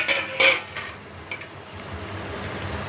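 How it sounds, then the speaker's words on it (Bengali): A cover is lifted off a plate in a home kitchen, giving a couple of sharp metallic clinks close by, then a lighter tap, followed by a soft, quiet sizzle from the cooking food, no talking. "ঢাকাটা খুলে দেখি।"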